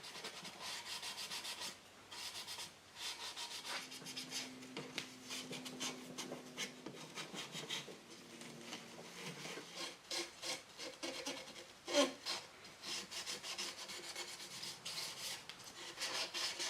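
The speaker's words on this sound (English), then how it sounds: "I'm going to go over the area with a Scotch-Brite gray pad to smooth it out" A gray Scotch-Brite pad scrubs steadily over dried paint in close, fairly quiet strokes, and the rhythmic rasping continues for well over ten seconds.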